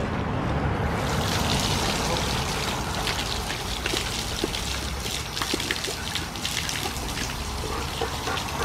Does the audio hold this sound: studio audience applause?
no